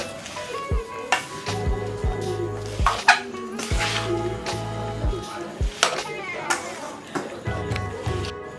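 Mixed vegetables for pickle, among them carrot, lemon, chilli, olive, cabbage and ginger, sizzle in oil while a spoon scrapes and stirs the pan, with repeated close knocks and clatter over a steady fry, and a voice talking throughout.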